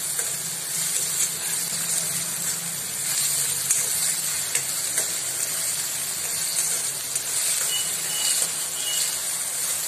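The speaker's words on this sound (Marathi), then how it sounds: "आपल्याला कांदा ब्राउन करायचा एकदम।" Onions frying in a pan until brown, giving off a steady, close sizzle and hiss throughout with no pauses, and no one speaking over it.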